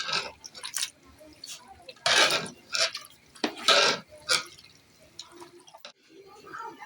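Wet stirring and scraping of a spoon against a large pot while crushed green chilli is mixed into a big batch of beef and potato curry, close and irregular, with soft clinks.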